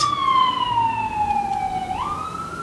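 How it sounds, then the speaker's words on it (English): A wailing emergency siren sweeps downward in pitch, then rises, moderately distant over a steady hum of traffic. "there's always some damn sirens passing by"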